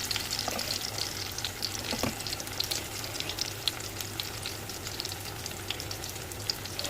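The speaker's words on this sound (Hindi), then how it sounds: "ये देखें हमारे हल्के हल्के से ब्राउन हो रहे हैं चपली कबाब।" Beef chapli kababs frying in a pan, a steady close sizzle of hot oil running throughout with light crackles and no voices.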